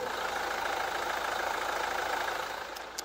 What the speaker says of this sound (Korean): 이 정도로 깔끔한 엔진 소음을 만나보실 수 있는 차량입니다